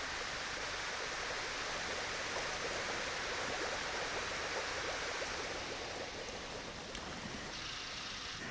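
Air bubbles streaming up through water in a tank demonstration, heard as a steady, dense hiss and rush of bubbling that holds at a constant level throughout, close and fairly loud, with no talking.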